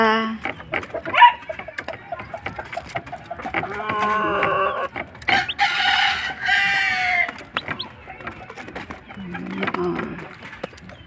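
Chickens and young chicks on a Filipino farm clucking and peeping, with a rooster crowing midway, moderately close; someone speaks among the birds throughout.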